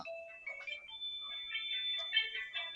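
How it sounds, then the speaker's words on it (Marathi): A mobile phone ringtone plays as an incoming call arrives outdoors on a stormy Konkan coast, a steady electronic melody of sustained and stepping tones, moderately faint, with no talk over it. "फोन आला"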